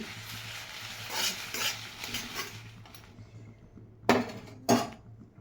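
Dried red chillies with their stems roast in a pan for idli podi, with soft sizzling and scraping stirs followed by two sharp metallic clinks of the spoon against the pan, and no talk.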